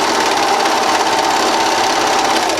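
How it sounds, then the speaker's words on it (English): A sewing machine runs fast and continuously, stitching the elastic casing on pajama pants with a loud, even mechanical whir up close and no speech. "we have one last step to do at the sewing machine"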